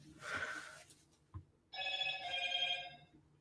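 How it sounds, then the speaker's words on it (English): A Motorola phone's alarm rings in a quiet room: a short buzzy burst, a small knock, then a sustained electronic ringing tone that holds for nearly two seconds, with no voices. "Yeah, it's a Motorola phone, so it has that annoying alarm."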